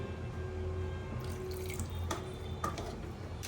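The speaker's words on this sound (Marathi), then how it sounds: "अर्धा ग्लास पाणी टाकूया आपण, म्हणजे चिकन चांगलं शिजलं जाईल." Half a glass of water pours into chicken cooking in a pan for homemade chicken biryani, a short splashing liquid sound over a steady low kitchen hum, with no talking.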